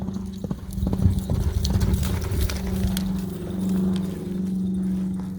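Horse hooves clip-clopping at a Montana rodeo, a busy, close run of hoof strikes over a steady low rumble of the arena, with a faint murmur of voices in the background.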